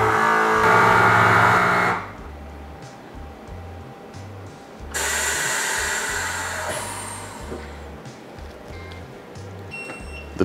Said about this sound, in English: close the door and it starts the vacuum process